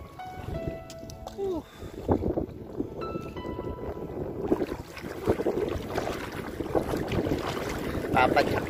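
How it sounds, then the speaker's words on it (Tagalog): Strong wind buffets the microphone in heavy, rumbling gusts, with water splashing and people talking intermittently underneath. "Lakas ng hangin, grabe."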